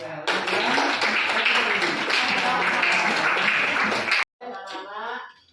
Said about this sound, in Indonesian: Kita kasih tepuk tangan untuk Helen.